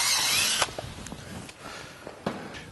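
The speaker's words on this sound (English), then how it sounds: "I will actually just go ahead and drill the center of the plastic out" A power drill bores out the center of a stripped plastic plug during a Jeep JK winch mounting plate install: a loud, close whirring grind for about half a second, then a few shorter drill bursts.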